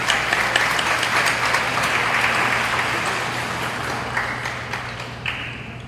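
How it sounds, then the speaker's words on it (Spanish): A forum audience at the Peruvian Congress applauds in a dense, sustained wash of clapping that gradually fades toward the end, with a steady low hum underneath. "Un aplauso para ellos también, por favor."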